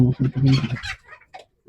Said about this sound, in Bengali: এই যে মুরগিগুলো না দেশ মুরগি তো এরা বিভিন্ন জায়গায় ডিম পারে